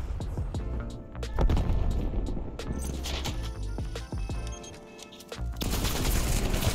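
Rapid bursts of AK-74u and sniper gunfire from Call of Duty Black Ops Cold War Search and Destroy, sharp repeated shots over dense game sound with a brief lull before the firing resumes loud.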